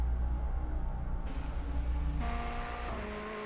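Race car engine in the iRacing video game drones steadily while the tyres spin, its pitch shifting and rising as the revs climb, continuous and close with no talking.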